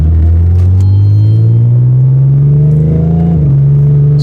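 An Audi fitted with CanAuto headers and resonated mid-pipes pulls away from a stoplight, its deep exhaust drone rising steadily in pitch through the gears, loud and close, then dropping briefly at a shift before continuing.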